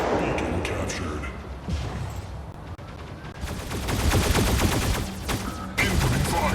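Mech Arena game combat brings dense bursts of mech gunfire and explosive impacts, sparser at first, then a heavy, near-continuous barrage in the second half, with voice sound mixed in.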